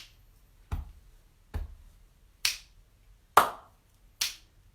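A group does body percussion, with finger clicks and hand claps in a steady pattern of five sharp, evenly spaced hits, close and moderately loud against a quiet background.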